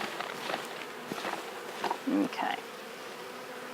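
A swarm of honey bees is shaken down into a hive, giving a soft, low buzzing with a few brief bumps and rustles. Someone speaks briefly nearby.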